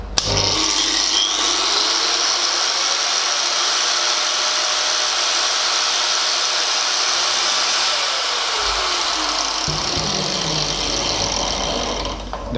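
An Enka DS6203B soft-start angle grinder runs freely at full speed, a loud, steady, high motor whine that holds unbroken for over twelve seconds, with no voices.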